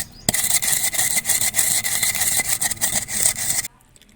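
Dry coriander seeds being ground for Peshawari chapli kabab masala give a continuous gritty, rasping scrape, fairly loud and close, for a few seconds before stopping abruptly.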